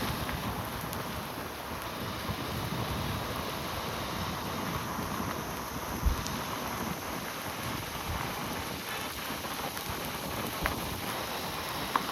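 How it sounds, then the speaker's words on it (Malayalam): Mallalli waterfall in Coorg, Karnataka roars as a steady, dense broadband rush of falling water, constant and fairly distant, with no voices. "അപ്പോൾ മല്ലള്ളി വാട്ടർഫാൾസ് എന്നാണ് ഇതിൻ്റെ പേര്."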